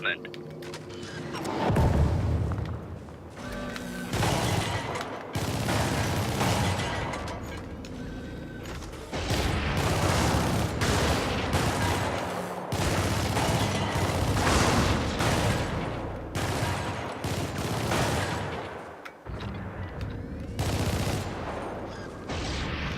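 A called-in machine gun in a video game fires long, dense bursts of automatic gunfire with heavy booming impacts, continuing almost without pause and loud throughout, with brief gaps between volleys.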